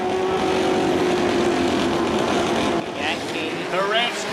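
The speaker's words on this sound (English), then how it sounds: "The revs come up." Formula Ford 1600 race cars idle together on the grid at a Canadian championship standing start, their engines a steady droning hum that climbs toward a rev near the end, with a commentator talking over it.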